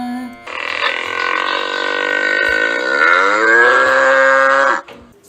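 A bull lets out one long, loud bellow lasting about four seconds. It starts after a brief pause, holds a deep, strongly tonal groan that sinks in pitch toward the end, and then cuts off abruptly.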